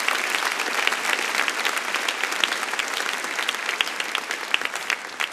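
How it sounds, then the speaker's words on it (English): Audience at a high school commencement gives a round of applause, a steady, moderately loud field of many hands clapping with scattered sharper claps throughout. "If we could give those individuals a round of applause as well."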